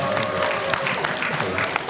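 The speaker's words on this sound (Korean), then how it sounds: "박수 치셔도 됩니다" Audience at a live cultural talk event at DDP in Seoul clapping steadily, a dense continuous patter of applause mixed with faint crowd murmur.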